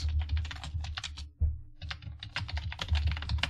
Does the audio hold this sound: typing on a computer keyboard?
yes